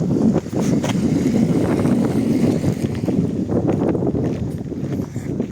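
Strong wind in an industrial area of Truskavets buffets the microphone with continuous low rumbling gusts, loud and close, with faint background sounds beneath.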